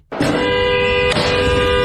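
An SUV horn sounds in a Minneapolis street, a loud, sustained blare that starts abruptly, then breaks briefly and resumes as a second long honk.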